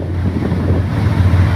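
A small boat with large engines crossing the sea off Masbate: a loud, steady rush of wind, water and engine roar with no break.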